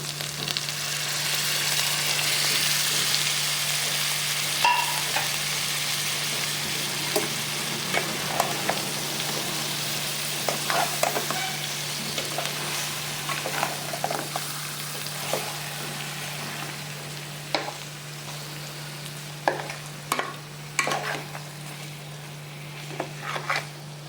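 Salmon pieces frying in oil with curry leaves and green chillies for an Andhra-style tangy fish curry: a loud, steady hiss with frequent crackles and spatters, plus a constant low hum in the background.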